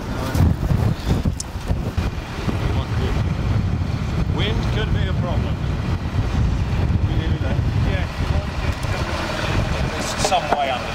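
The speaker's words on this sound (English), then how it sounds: "the wind has picked up and we can't in fact offload any of the wagons with the crane" Strong gusts buffet the microphone at an outdoor culvert site where a crane is lifting, a loud, continuous low rumble that lasts throughout, with faint voices talking underneath.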